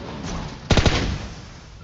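A short burst of video-game gunfire, four or five rapid shots in quick succession, sharp and close, standing out against a quiet background with no talk.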